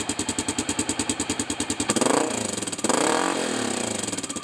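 A Honda XR650L motorcycle fitted with an E-Series exhaust pipe, thumping in a steady loping idle pulse up close, then a couple of quick throttle blips that swell and settle back.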